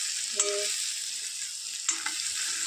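Sabudana khichdi roasts in a pan with a faint, steady sizzle, close by, and two soft scrapes of a spoon stirring it.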